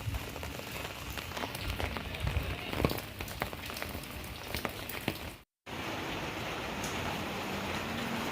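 Steady rain patters on surfaces during a lone night walk through a dense neighborhood in Kampung Wadasari, Pondok Betung, a constant close wash of drops with scattered louder splashes and a brief dropout midway.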